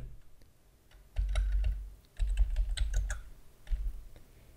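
Quick bursts of typing on a computer keyboard, close and crisp, with a few separate key clicks after a short pause; a low hum sits underneath and nobody speaks.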